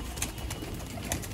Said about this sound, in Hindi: भाई ये कबूतर हवा में आ रहा है मेरा